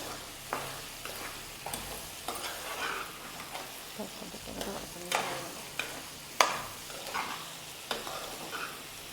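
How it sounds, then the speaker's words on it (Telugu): Ridge gourd and chana dal are stirred in a pan over a soft background sizzle. A spatula scrapes and knocks in irregular strokes about once a second, heard close by with no talking. "ఇప్పుడు బీరకాయలు వేయాలి బీరకాయలు వేసి రెండు కలిపి"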